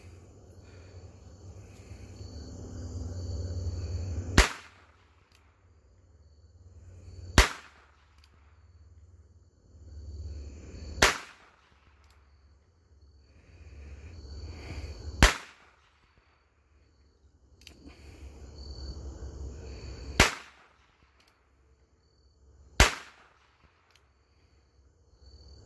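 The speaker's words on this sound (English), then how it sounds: "So we've been shooting 22 long rifle." Six single shots from a Ruger Wrangler .22 revolver firing .22 long rifle rounds ring out outdoors, evenly spaced several seconds apart over a quiet background of insects.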